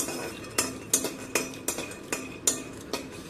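Dry roasted fox nuts (makhana) rattle and scrape in a pan as they are stirred, about eight quick clinking strokes at a steady rhythm.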